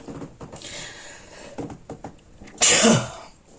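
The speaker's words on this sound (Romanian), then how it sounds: "Îmi cer scuze, nu știu ce mi-a venit de strănut în continuu" A single loud sneeze bursts out near the end, preceded by soft shuffling and faint breathy sounds indoors.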